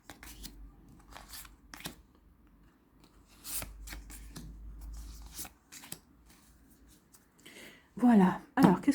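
Tarot cards shuffled by hand before a pyramid spread, soft papery riffles and slides repeating in short bursts at close range, with a louder flurry near the end.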